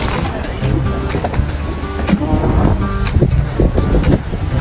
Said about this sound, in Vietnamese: mình ở ngoài này mình nghe tiếng gió to lắm luôn đấy